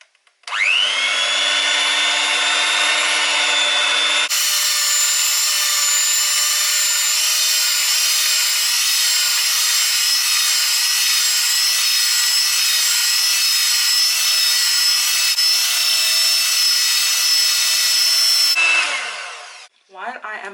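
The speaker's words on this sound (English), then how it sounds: "I am going to be scraping down the sides of the pan at the same time, just to get the mixture all blended inside the mixer." A stand mixer whirs steadily at high speed while sorrel and beetroot fruit cake batter is blended and the bowl sides are scraped, a loud continuous motor drone after a lower-pitched start, cutting off abruptly near the end.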